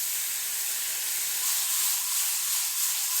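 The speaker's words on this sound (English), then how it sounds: "Throw them on the skillet for a couple of minutes until they're cooked through" Old Bay–seasoned shrimp sizzle in a hot skillet, a steady bright hiss running evenly for a few seconds with no voices.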